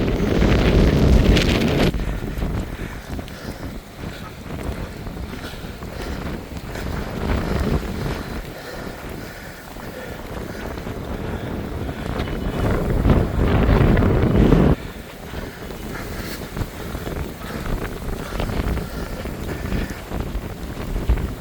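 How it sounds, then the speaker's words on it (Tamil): Strong wind buffeting the microphone atop the rocky Samanar Hills at Keelakuyilkudi near Madurai, a loud, continuous roaring rush with heavy gusts surging and dropping throughout, no talking. "இந்த இடமே அட்டகாசமான காத்து இருக்குது"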